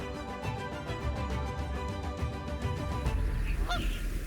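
Canada geese honk repeatedly in a steady, rhythmic chorus over Arctic wetlands, loud and layered, with a few higher, clearer calls standing out near the end.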